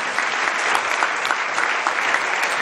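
A crowd at a Save the Children centenary celebration in Nigeria keeps clapping, a dense, steady burst of applause with crisp individual claps standing out, loud and continuous from start to finish.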